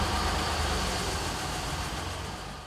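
A 1974 Toyota FJ45 Land Cruiser engine idles steadily, a low, even rumble that holds close and constant without any revving or talk.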